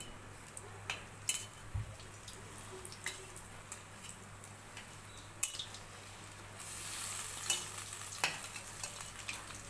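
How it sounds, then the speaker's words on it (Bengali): Lentil fritters (dal bora) deep-fry in oil over a low flame with a steady soft sizzle, punctuated by scattered clicks and taps of a utensil against the pan. "লো ফ্লেমে রেখে বড়াগুলো ভেজে দেবো।"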